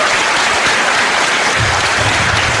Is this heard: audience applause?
yes